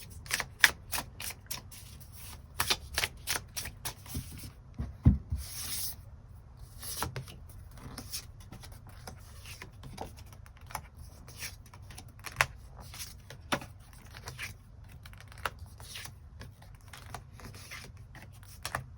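Tarot cards are shuffled and drawn in quiet, with repeated crisp card snaps and riffles, slides and taps in irregular bursts close by and no talk.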